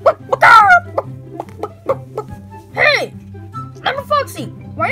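A person imitates a chicken clucking while playing with a Foxy plush, giving a series of squawky, bird-like clucks and short cries at close range, loud and irregular.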